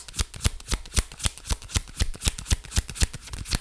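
A tarot card deck is shuffled by hand, a quick, steady run of riffling flutters and soft slaps, close and clear with no talking.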